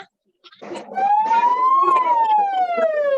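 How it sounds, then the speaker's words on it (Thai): A wailing ambulance siren rises and falls in pitch, loud and close, with some background noise underneath. "เสียงรถพยาบาล"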